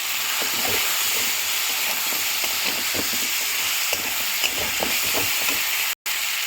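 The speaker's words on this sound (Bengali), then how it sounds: "ভালো করে কষা হয়ে গেছে মশলাটা, তারপর আমি ওলকপিগুলো দিয়ে দেবো।" Kohlrabi and spice paste fry in a pan with a constant bright sizzle and hiss, dotted with small pops and stirring scrapes, close and steady with no talk.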